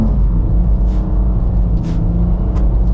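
A 2023 BMW M2 with an 8-speed automatic drifts around a wet skidpad with standing water. Its engine drones loud and close throughout, with brief hissy bursts of spray.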